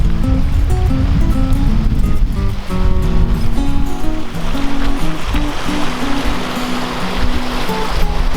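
A creek flows through a snowy landscape, its water rushing in a steady, full broadband wash that stays loud and close throughout, with a faint low tonal layer early on.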